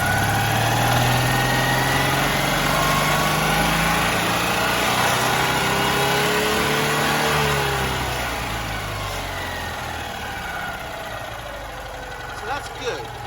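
Citroen 2CV engine running steadily for the whole stretch, its small twin-cylinder drone changing pitch as revs shift up and down, then easing slightly toward the end.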